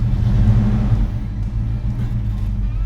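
A classic car's engine rumbles and revs as the vehicle pulls away, a steady low drone close by with no talking.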